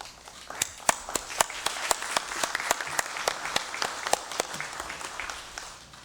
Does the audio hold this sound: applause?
yes